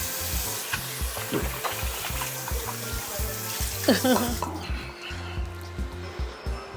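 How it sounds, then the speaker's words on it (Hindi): A hotel-room tap runs in a steady broadband hiss for hands being washed, stopping abruptly about two-thirds through, with low thumps and brief voices around it. "मैं हाथ धो लूं भाई"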